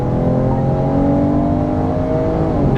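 A BMW M4 Competition accelerates hard, its exhaust giving a loud, steady rising drone with layered engine harmonics that climb and level off over about three seconds, heard close and alone.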